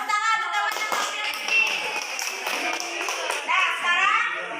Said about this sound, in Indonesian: Oke, tepuk tangan untuk teman-teman.